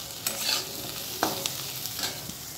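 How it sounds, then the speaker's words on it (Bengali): Potatoes frying in a pan with a steady soft sizzle, stirred by a spatula that scrapes and clacks several times over the hiss, close and moderately quiet. "এখন একটু আলুটা ভালোভাবে নেড়ে নিই, একটু ভাজা ভাজা হয়ে যাক।"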